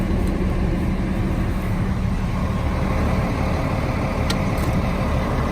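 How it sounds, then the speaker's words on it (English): A truck from a SportChassis remote start system idles steadily after being started remotely, a constant low engine rumble throughout with faint traffic-like noise and a brief higher tick near the end. "Truck stays running."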